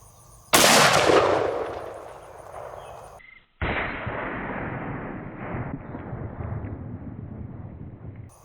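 One loud, sharp gunshot from a Magnum Research BFR revolver chambered in 450 Marlin, firing 430-grain hard-cast lead flat-nose rounds outdoors, is followed by a long decaying boom. Steady wind noise buffets the microphone afterward.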